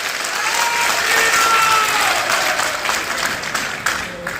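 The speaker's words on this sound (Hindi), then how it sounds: "तालियों की गड़गड़ाहट से उनका स्वागत किया जाए" Crowd applause welcomes Chief Minister Mohan Yadav at a government event in Gwalior, a dense, steady roar of clapping filling the whole stretch with a few faint voices mixed in.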